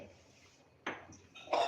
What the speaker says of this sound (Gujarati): એક તપેલી લેશું, એમાં આપણે તેલને અંદર ઉમેરી દેશું